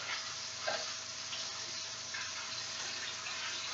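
Scallops dusted in flour sizzle steadily in butter and oil in a pan, a continuous close frying hiss with a small spatter or two.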